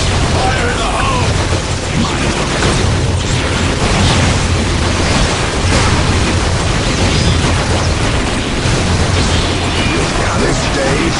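Explosion in Warhammer 40k: Dawn of War, a steady, dense roar of blast noise filling the whole stretch, loud and sustained with no clear pauses.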